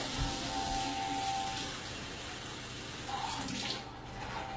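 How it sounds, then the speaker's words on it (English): Warm water runs from a tap into a measuring cup for beer bread, a steady rushing stream that continues throughout at moderate volume, with no talking. "So you're adding your 3/4 cup of warm water."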